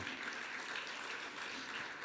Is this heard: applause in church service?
yes